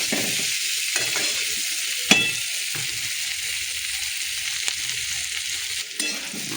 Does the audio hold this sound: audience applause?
no